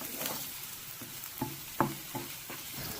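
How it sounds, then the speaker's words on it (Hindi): Finely chopped onions, meant for scrambled eggs, sauté in a pan with a soft steady sizzle, while a spatula stirs them in a few distinct scraping strokes nearby. "इसको करेंगे मिक्स और इसको जब तक सौते करना है हमें, जब तक इस पर लाइट गोल्डन कलर ना आ जाए"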